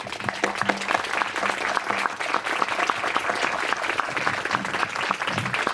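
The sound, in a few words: applause for professor Graziano at a festival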